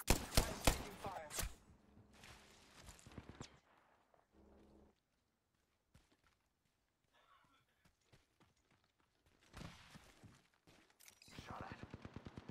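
Video game gunfire rattles in rapid bursts of shots at the start and again near the end, with quieter stretches and sparse effects between.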